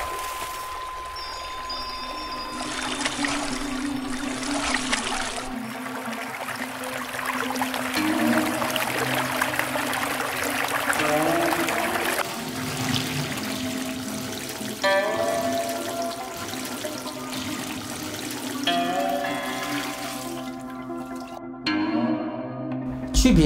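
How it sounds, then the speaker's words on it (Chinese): Flowing stream water runs steadily while white peony roots are washed in it, a continuous pouring and trickling wash heard throughout under a layer of tonal sound. "洗白芍要用流淌的溪水，能更好的保证药材的药性。"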